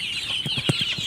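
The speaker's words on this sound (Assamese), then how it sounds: "ইয়াৰ ৰশ্মিয়ে মুৰ্গী দানা দি আছে।" Local farm chickens cluck in short repeated bursts while being fed grain, the calls growing louder and closer toward the end over a steady background hiss.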